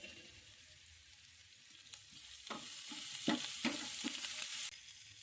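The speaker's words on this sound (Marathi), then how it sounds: "ही अशी आपण फोडणी करून घेणार आहोत." Spices for vada pav tempering crackle and sizzle in hot oil, quiet at first and then building into louder bursts of spitting and stirring, close by with no talking.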